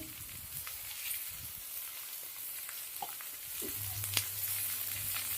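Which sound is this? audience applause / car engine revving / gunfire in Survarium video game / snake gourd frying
snake gourd frying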